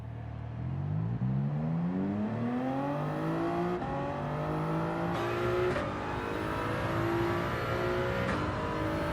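A Toyota Supra in Gran Turismo 7 revs up hard through several gears, each pitch climb cut short by a quick shift, steady and loud throughout.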